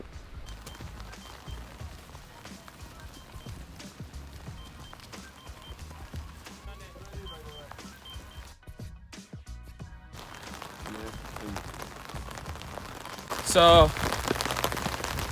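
Rain patters steadily on a mountain bike track at the Lenzerheide World Cup venue, a dense soft hiss of drops with occasional louder splashes and a burst near the end, while people talk quietly.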